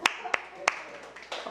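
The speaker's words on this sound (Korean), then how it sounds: "자, 우리 다 같이 격려의 박수 3번." A church congregation claps in unison three times, three crisp, evenly spaced sharp claps in quick succession, followed by a few scattered softer claps and faint murmuring.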